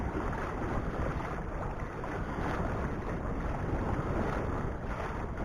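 Steady wind rushes and buffets across a sailboat under sail in a breeze of about 5 to 10 knots, with a constant broadband roar and faint wave wash underneath, no voices.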